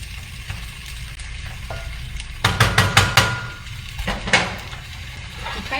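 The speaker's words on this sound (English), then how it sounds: "So really just stirring it around for a minute or so." Shallots and summer squash are stirred in a hot pan, giving a low sizzle under a series of sharp spoon-against-pan clacks in quick bursts.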